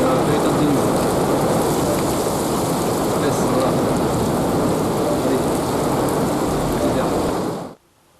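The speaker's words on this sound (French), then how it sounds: "Ouais, c'est un véritable déluge" Heavy rain pours steadily during a spring supercell storm, a loud, dense roar that stays constant for several seconds before cutting off abruptly near the end.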